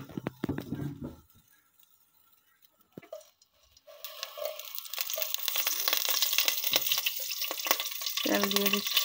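Cooking oil goes into a hot pot while native chicken is being prepared. A voice speaks briefly first, then after a quiet pause a steady sizzling hiss builds and keeps going.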